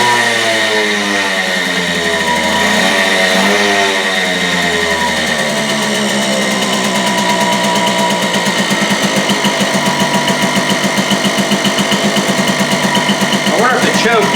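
The two-stroke engine of a 1982 Sachs Eagle 1 moped idles steadily and a bit high, with a buzzy, rattling pulse that holds throughout and quickens slightly near the end.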